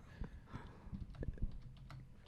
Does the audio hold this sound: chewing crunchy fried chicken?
no